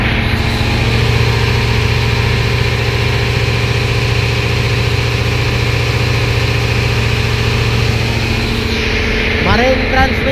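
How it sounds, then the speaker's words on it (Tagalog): Mitsubishi 8D9 marine engine aboard a boat runs loud, close and steady, a continuous low throbbing drone with a faint whine on top, holding evenly to the end. "Marine transmission 8D9 engine Mitsubishi."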